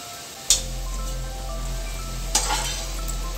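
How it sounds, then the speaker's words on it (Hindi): Sliced onions browning in a pan for veg biryani give off a steady, close sizzle, with two brief louder crackles or stirring bursts over a constant low hum. "तो हमारी प्याज अच्छे से ब्राउन होने लगी है"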